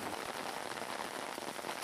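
Steady rain falling on surfaces, a soft even hiss with scattered drop patter, fairly quiet and without voices, after forest fires.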